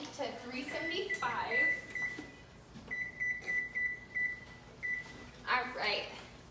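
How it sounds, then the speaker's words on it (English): An oven is set to preheat to 375 degrees, with a series of short electronic beeps from its control panel sounding between and under a person talking nearby, along with light kitchen handling noises. "So the first thing we're going to do is preheat the oven to 375."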